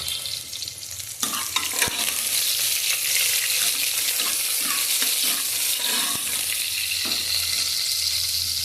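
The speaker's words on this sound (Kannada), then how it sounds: "ಇದಾದ್ಮೇಲೆ ಈರುಳ್ಳಿ, ರುಚಿ ಬೇಕು ಅಂದರೆ ಹಾಕ್ಕೊಡಿ." Onions fry in a pan for chickpea and chana dal sambar, giving a steady close sizzle with occasional scrapes and clinks of stirring throughout.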